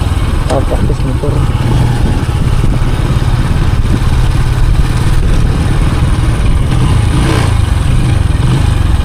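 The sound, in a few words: motorcycle engine while riding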